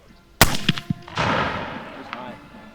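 A rifle fires once at an outdoor shooting event in Alberta, a sharp loud crack followed by a few quick metallic clanks and a long rolling echo that fades away.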